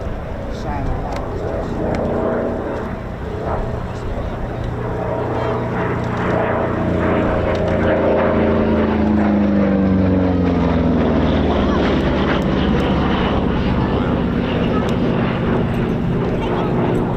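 A P-47 Thunderbolt propeller fighter flying past at the RAF Cosford air show, its loud radial-engine drone swelling and sliding down in pitch as it goes by, with someone commenting throughout.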